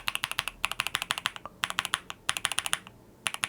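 Rapid keystrokes clatter on an ASUS ROG Azoth Extreme mechanical keyboard in quick bursts with short pauses, each press giving a deep, solid, thocky clack without ping, close and clear.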